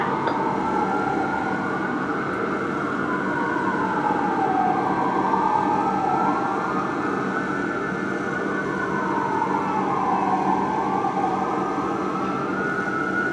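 Vancouver Fire Engine 7's siren wails loud and continuous, rising and falling in slow regular sweeps over steady engine rumble as the truck responds.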